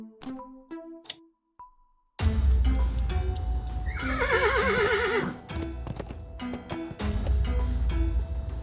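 A horse in the video game Willy Morgan lets out a loud, wavering whinny after a few quiet chimes, with hoof clip-clops and rustling game sounds around it.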